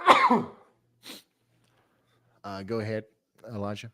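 A sneeze bursts out loudly at the start of a live hurricane broadcast as landfall nears in Texas. A short puff follows, then someone speaks briefly.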